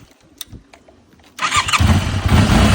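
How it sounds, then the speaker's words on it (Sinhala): A motorcycle with a weak battery, recharged after repair, starts quickly after a few quiet clicks, its engine catching and settling into a loud, steady idle close by. "ඉතින් දැන් බයික් එක ගහපු ගමන් බඩු ස්ටාර්ට්"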